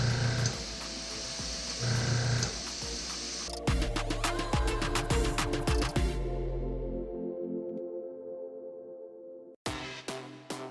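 An airbrush sprays paint onto an ice fishing jig, giving a close hissing spray in bursts broken by clicks and brief stops, then trailing off into near silence before a short final burst.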